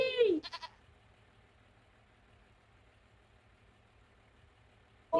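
A baby sheep in the farming game Farming Simulator 25 gives a loud wavering bleat followed by a few short stuttered bleats, then a low steady hum, with another bleat starting at the very end.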